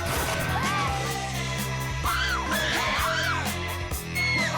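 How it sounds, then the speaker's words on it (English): Children scream and yell in a loud, continuous burst over a busy backing track, several shrill rising cries overlapping throughout. "While they scream their heads off"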